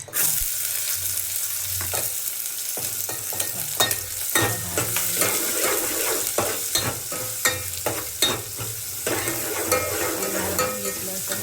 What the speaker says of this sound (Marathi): आता तेल टाकलं असं तेल टाकलं ते कांदा वगैरे भाजून घ्यायचा